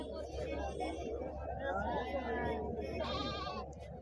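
Rams and goats bleat repeatedly at a busy weekly livestock market, with overlapping calls near and far over a constant crowd murmur and people talking.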